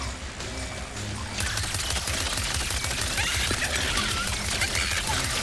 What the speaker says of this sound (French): On active les pièges et on tire sur les bourdons.